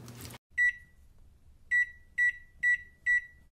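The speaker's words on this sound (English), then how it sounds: "So put your stick of butter in a microwave bowl. Put it in the microwave." A microwave oven melts a stick of butter, giving five clear electronic beeps, one alone and then four in a quick even run, over a faint low hum after a short rustle at the start.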